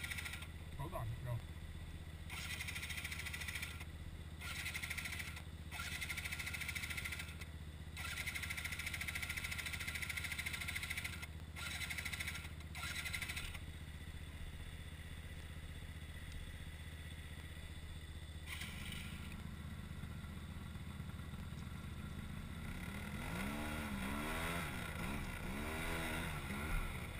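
A motorcycle digging into the sand dunes of Coral Pink revs its engine in a steady, fairly loud drone, with short bursts of clatter and wind noise. A rider's voice rises briefly near the end.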